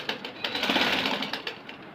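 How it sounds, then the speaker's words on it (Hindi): Sewing machine running steadily as it stitches back over an existing seam to hold a fabric strip in place on printed trousers, a continuous close whirring burst lasting about two seconds. "इसलिए हमने उल्टी करके इसी सिलाई के ऊपर सिलाई लेनी है।"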